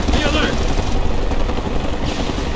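A helicopter in the video game Mercenaries 2 makes a loud, continuous rotor roar, with gunfire and shouting voices over it.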